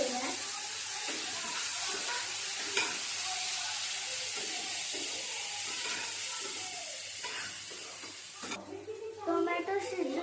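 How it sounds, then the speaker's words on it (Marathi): Tomatoes are stirred into browned onion in a hot pan. A steady sizzle runs under scraping spatula strokes and clinks, easing off toward the end. "आता आपण हे टोमॅटो टाकूया लाल लाल. आता हे हलवून घेऊया."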